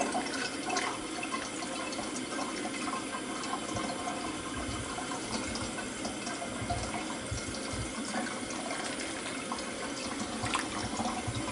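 Bleach solution containing baking soda is poured over a cyanotype print, giving a soft, continuous trickle and splash of liquid that runs quietly for several seconds with no talking.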